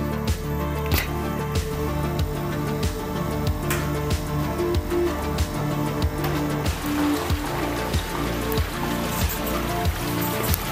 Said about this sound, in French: il pleut des trompes d'eau